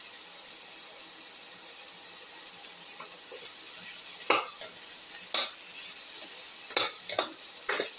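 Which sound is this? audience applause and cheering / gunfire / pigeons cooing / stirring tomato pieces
stirring tomato pieces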